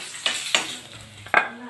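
Eggs frying red-brown in oil in a pan with a little turmeric, a soft continuous sizzle broken by three sharp scraping stirs of a spatula, close up with no talking.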